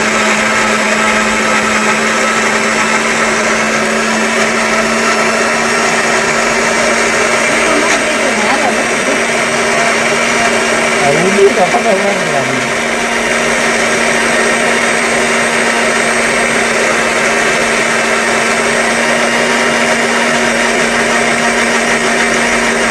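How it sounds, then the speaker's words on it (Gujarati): A kitchen mixer grinder blends mango pulp for keri no ras, running with a loud, constant motor whine and churning hum that stays steady from start to finish. "ચાલુ કરો મિક્સર"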